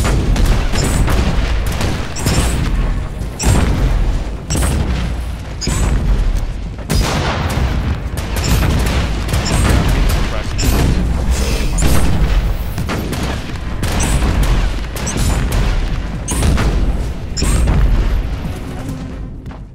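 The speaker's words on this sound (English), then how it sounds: "I just threw a grenade at that guy." A grenade goes off in Warhammer 40K Inquisitor: Martyr, amid loud, repeated booms and bursts of gunfire and blasts that keep rolling through the whole stretch of combat.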